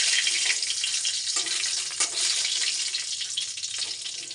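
A bright, steady sizzle of a bay leaf frying in hot oil, close and continuous, with faint stirring bumps underneath.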